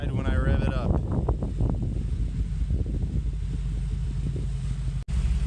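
A 2019 Mercedes-Benz G63 AMG revs in comfort mode, giving a deep, close engine rumble that climbs in pitch early on, then settles into a heavy, steady low growl.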